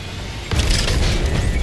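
A tank firing a HEAT shell in the video game World of Tanks, a single loud boom hitting midway and rolling on with a rumbling tail over steady engine noise.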